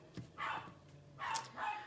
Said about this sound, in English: That is the sound of 3 puppies.